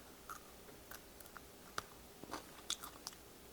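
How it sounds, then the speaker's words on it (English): Sharp crunchy bites and chewing on a fresh jalapeno pepper, a scattered series of quiet close crisp snaps and clicks over a faint background hiss. "Now I'm gonna cut into my jalapeno and give it a little bit of a taste."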